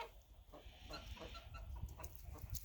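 Chickens clucking softly close by on a farm, one pecking at a feed bag, short irregular calls over a low rustling background with no talking.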